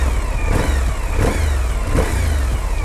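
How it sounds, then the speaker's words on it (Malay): Large 1037cc 90-degree V-twin adventure motorcycle engine revving close by, a loud throbbing rumble with repeated throttle blips in uneven pulses. "Itulah barunya bunyi ikonik bagi sebuah motosikal adventure"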